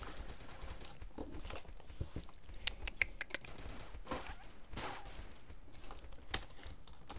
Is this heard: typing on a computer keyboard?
yes